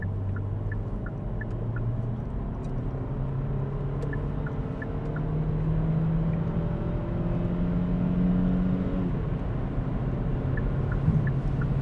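A Kia Xceed PHEV plug-in hybrid accelerates from 50 to 120 km/h with the pedal floored, giving a steady cabin drone whose engine tone climbs in pitch over about twelve seconds, with faint ticking clicks on top.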